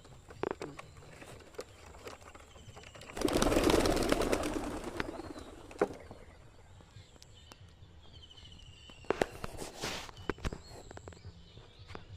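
A burst of flapping wings as pigeons are released and take off together, a loud fluttering rush midway, then scattered taps and another brief flurry of wingbeats.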